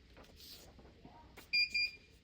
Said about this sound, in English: the machine is going to beep and automatically lift up